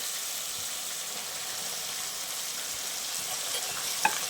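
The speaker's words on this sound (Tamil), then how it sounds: "சேர்த்து நல்லா அந்த எண்ணெயிலேயே வெண்டைக்காய் வதங்கட்டும்" Okra, or ladies finger, sautés in hot oil with softened tomato for a tamarind curry, giving a steady, even sizzle close by that runs throughout, with a small clink near the end.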